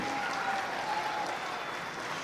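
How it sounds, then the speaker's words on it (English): Steady, moderately distant applause from the audience at a steer show in a large arena, soft and even without pauses. "Let's go ahead and give these young ladies a big round of applause out here"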